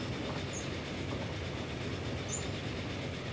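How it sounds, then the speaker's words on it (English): A train rolls past continuously in the railway sim Transport Fever, a steady broadband rumble with faint rail clatter, fairly loud and alone with no talking. "There comes another train."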